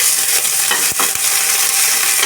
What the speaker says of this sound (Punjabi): ਤੇਲ ਆਪਣਾ ਗਰਮ ਹੋ ਗਿਆ ਹੁਣ ਇਹਦੇ ਵਿੱਚ ਆਪਾਂ ਲਸਣ ਅਦਰਕ ਤੇ ਹਰੀ ਮਿਰਚ ਪਾ ਦਾਂਗੇ